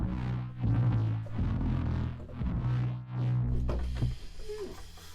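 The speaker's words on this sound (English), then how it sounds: "So a real nasty distorted FM patch which I've gone and made even filthier" A gritty, heavily distorted FM synth bass patch, further roughened with EQ, plays a thick sustained line in repeated swelling phrases, loud and alone with no talk, ending in a brief noisier burst.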